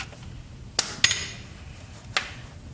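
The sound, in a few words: tapping the piston up in a 1974 Ford Pinto engine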